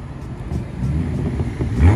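Deep, uneven exhaust burble of a Lamborghini Aventador with a Liberty Walk kit nearby, low and throaty, rising slightly toward the end.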